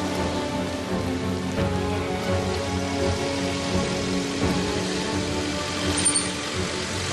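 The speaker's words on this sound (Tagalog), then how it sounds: "hintay lang natin yung ito itong ulan para makapaglakad ulit tayo palabas dito" Steady rain pours down outdoors, a dense continuous hiss of drops on surfaces, loud and close with no talk.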